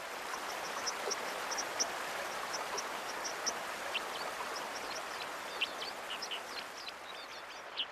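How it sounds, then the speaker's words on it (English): A big stream flowing steadily in a steady broadband rush, with small birds chirping intermittently over the water noise throughout. "This is a big stream. Listen to the sound it makes."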